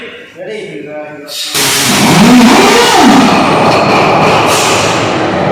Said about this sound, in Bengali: আমাদের ইঞ্জিন রেডি ইনশাল্লাহ। এখন আমরা স্টার্ট করব।